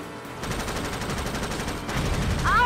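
Gunfire in the video game Jak X, a steady run of rapid shots that swells louder toward the end, with a brief high electronic sweep at the close.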